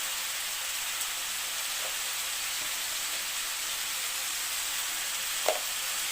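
Kohlrabi sizzles steadily in a hot pan, a soft continuous frying hiss broken by a few faint scrapes of stirring and one sharper clink near the end.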